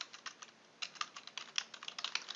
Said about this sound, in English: So I can type in my question